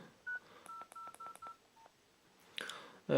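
Keypad tones from a Nokia 1209 mobile phone as a service code is entered: a quick series of short, clean beeps at an uneven pace, followed by a brief rustle and a click near the end.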